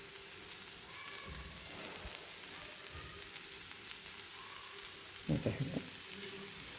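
Samosa pastry sheet made from wheat flour roasting in oil on a pan over high heat, a steady soft sizzle with a few scrapes and taps of a utensil near the end.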